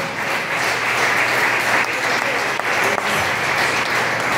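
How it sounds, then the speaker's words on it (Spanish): A congregation at a Christian talk applauds loudly on cue, a dense, sustained roar of clapping that stays full and even from start to finish. "apláudale con fuerza"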